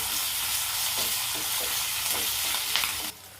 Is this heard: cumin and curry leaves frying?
yes